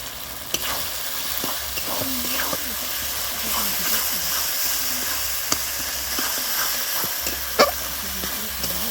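Chopped tomatoes with salt and spices fry in oil in a pan, a steady hiss broken by clinks and scrapes of stirring, while a voice speaks quietly over the cooking.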